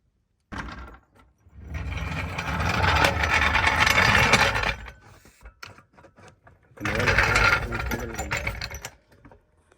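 Rhythmic ratcheting clatter of an Arcan 2 ton quick rise floor jack being pumped, in two sustained bursts of repeated strokes separated by a quieter pause, close and fairly loud.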